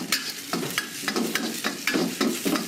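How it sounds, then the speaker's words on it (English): Preserved radish and bean curd stir-frying in a wok in a Thai kitchen: loud rhythmic scraping strokes about every half second over a continuous hot sizzle, close up, no talking. "Then a bit of the preserved radish. Fry that away."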